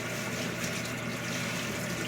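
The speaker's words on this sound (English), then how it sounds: "Wash it with cold water." Cold tap water running over aquarium filter media from a Fluval 306 canister filter, a steady broadband rush and splash with no pauses or voices.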